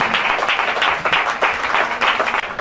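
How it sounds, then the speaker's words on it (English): A conference audience applauds as a man steps down from the podium. Many hands clap in a loud, steady, dense wash with a slight rhythmic pulsing throughout. "Please, a round of applause for him while he stepped down from the podium."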